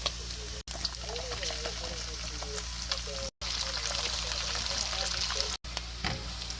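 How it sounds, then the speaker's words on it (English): Onions fry in rendered bacon fat with a loud, continuous sizzle, stirred now and then, while someone talks over it; the sound cuts out briefly three times. "our bacon's about halfway rendered. We're gonna go ahead and add our onions"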